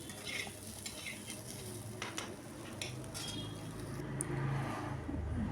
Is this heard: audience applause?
no